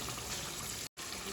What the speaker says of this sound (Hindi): बस अब मैं इसमें पानी ऐड कर दूँगी